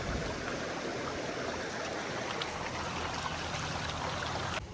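River water flows steadily, a soft continuous rushing and trickling close by, faint and unbroken, with no voices.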